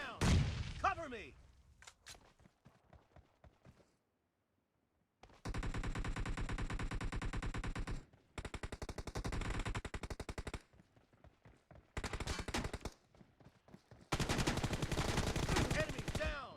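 Gunfire in a shooter video game, heard as several long, loud bursts of rapid automatic fire separated by pauses, after a louder opening thump, with game voice lines called out between the volleys.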